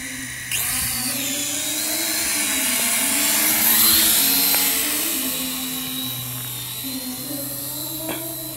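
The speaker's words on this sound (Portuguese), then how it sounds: "Novamente, eu tive que pousar o drone." A cheap drone bought from Shopee flies with a steady, high whining buzz of small propellers that rises and falls in pitch as it maneuvers, loud and continuous throughout.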